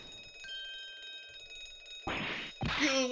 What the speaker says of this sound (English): An alarm bell. All hell would break loose if this thing were to ring.